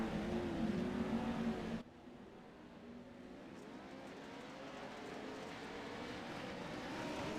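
Pro 4 race trucks circle at reduced pace under a yellow flag at Wild Horse Pass Motorsports Park, a steady engine drone that cuts abruptly to a lower, distant rumble, faint throughout.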